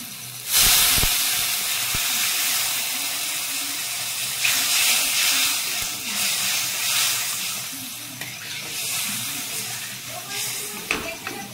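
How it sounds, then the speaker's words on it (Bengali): Fish curry broth of fried spices and chilli powder boiling after water is added: a loud, sustained steamy hiss and bubbling that swells and eases over several seconds. "আমার ঝোলটা ফুটে গেছে"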